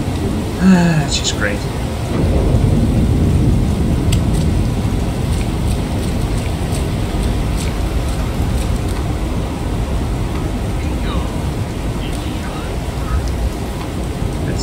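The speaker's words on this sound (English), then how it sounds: "And it's raining too." Steady rain falls and patters on surfaces throughout, a constant moderately loud wash, with a brief spoken remark over it near the start.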